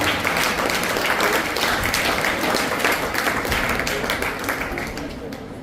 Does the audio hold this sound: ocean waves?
no